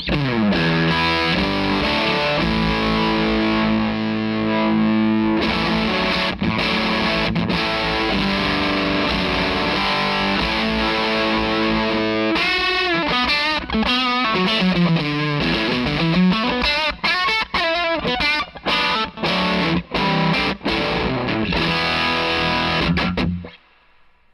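Heavily distorted electric guitar through the high-gain side of a distortion pedal, with sustained, saturated chords giving way to fast chugging and picked riffs, loud and continuous before cutting off.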